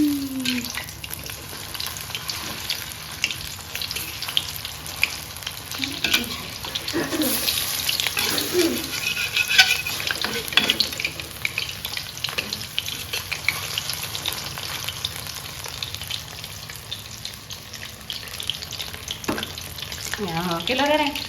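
Bananas fry in hot oil with a constant crackling sizzle that goes on for the whole stretch, alongside scattered clinks of a spatula and occasional voices in the background.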